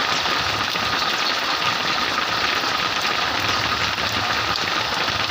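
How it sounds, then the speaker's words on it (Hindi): Steady, heavy rainfall pouring onto surfaces, a dense continuous hiss with constant patter and no breaks, loud and close throughout with no voices. "सुंदर वर्षा हो रही है।"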